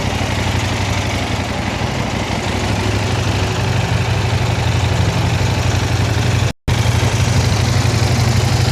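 A CFMOTO NK800 motorcycle engine idles with a loud, steady low rumble close to the microphone, broken only by a very brief dropout, with no talk.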